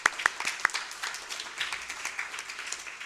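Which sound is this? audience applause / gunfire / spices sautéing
audience applause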